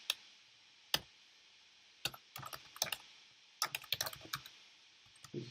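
Fast typing on a computer keyboard, close and crisp, with isolated clacks early on and then tight flurries of keystrokes separated by brief pauses.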